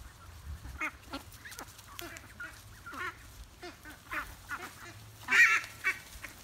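A small flock of ducks quacking in short, scattered calls close by, with a louder burst near the end, while someone speaks softly in between.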